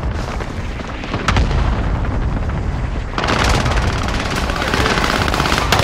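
Rapid automatic gunfire in Call of Duty: Modern Warfare, loud and dense, with sustained bursts and a sharp heavy burst partway through, no voices over it.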